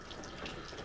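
Rainwater runs steadily from an outdoor tap on the deck of an off-grid cabin, splashing as hands are washed. The flow is close and continuous, with no voices over it.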